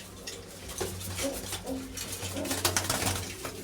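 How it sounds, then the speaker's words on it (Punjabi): Kalsira pigeons coo in a loft, low rolling calls repeating steadily at close range, with some faint clatter in the background. "ਦੇਖੋ ਕਬੂਤਰ ਆਪਣੇ ਜ਼ਿਆਦਾ ਕਬੂਤਰ ਇਹਨਾਂ 'ਚ ਕਾਲਸਰੀ ਆ"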